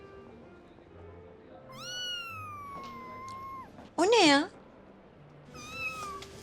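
A cat meows several times, one drawn-out, one loud and sharp, while a person talks briefly in the background.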